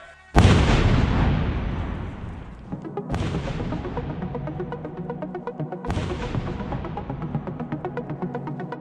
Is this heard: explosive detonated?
yes